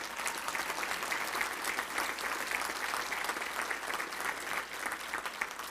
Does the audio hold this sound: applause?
yes